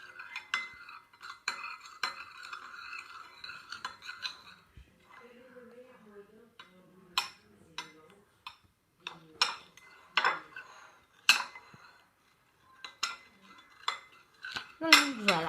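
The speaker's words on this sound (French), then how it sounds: "Donc on mélange bien." Homemade organic fake blood mixture being stirred with metal utensils in a bowl, repeated clinking and scraping strokes, close and sharp, with brief talk in between.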